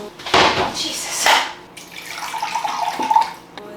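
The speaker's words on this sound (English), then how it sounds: "I'm going to add about a 1/2 cup of water." Water is poured into a pan with garlic and olive oil while cooking a vegan meal, two loud splashing bursts followed by a lighter sizzling, bubbling stretch, close by.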